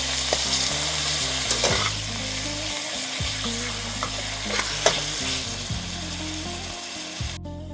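Chicken maklouba mixture stirred and frying in oil, a steady close sizzle with repeated scraping strokes of a spoon through the pan, heard alone without talk.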